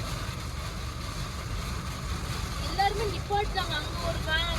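Strong storm wind gusts and roars outdoors in Thoothukudi, with rain, in a broad, rushing wash of noise while a person talks over it.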